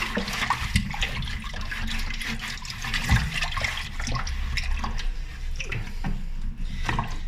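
Murky brown water draining out of the tank of a Hatari AC Turbo1 evaporative air cooler, a steady close splashing and gushing flow that runs the whole time with no pauses.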